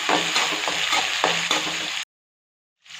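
Small onions and curry leaves frying in oil for sambar, a dense close sizzle with rhythmic stirring scrapes that cuts off abruptly into silence before resuming faintly.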